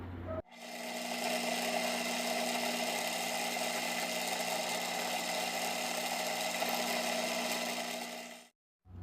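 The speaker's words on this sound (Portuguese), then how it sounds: "Eu vou passar primeiro uma broca de centro e depois a gente faz um furo para colocar uma rosca M8." A centre drill bit cuts a hole, the machine running with a steady, even mechanical hum for about eight seconds before it cuts off abruptly.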